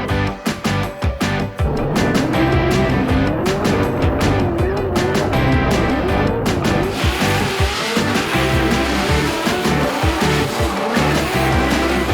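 A race car at a New Jersey drag strip roars through a burnout, loud engine revving and sustained tire squeal close by, with the screech building and continuing to the end.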